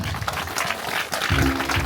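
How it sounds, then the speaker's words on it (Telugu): An audience at a church gathering claps in a brief, dense burst of applause that carries on steadily, mixed with a low hum toward the end. "అందరం చప్పట్లు కొడదాం గట్టిగా"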